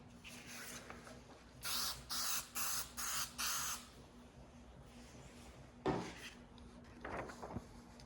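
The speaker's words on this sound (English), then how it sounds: "With a light mist of adhesive, I was able to assemble all of the patches." 3M 77 multi-surface spray adhesive sprayed in five short hissing bursts in a quick even rhythm, close and clear, followed by a thump and light handling noises on sailcloth patches.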